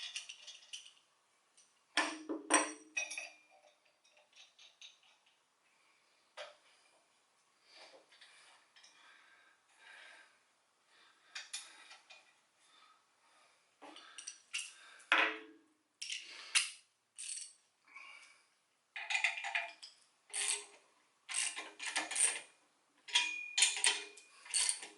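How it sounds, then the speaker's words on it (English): Bolts being tightened on a Ford Mustang during a teardown, with irregular close metallic clicks and ratcheting bursts separated by pauses in an otherwise quiet space. "I'll kind of lock these bolts down."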